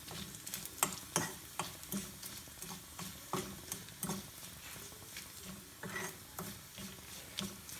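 Onions fry in a pan for Kerala chutney, a faint, soft sizzle broken by irregular clicks and taps of stirring with no talking.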